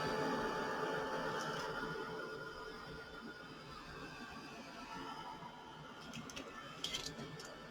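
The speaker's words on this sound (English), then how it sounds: "now I'm going to hit this with the dryer again." A hair dryer drying coffee- and ink-dyed paper blows with a steady, close whoosh of air, holding roughly level throughout, with a few faint clicks near the end.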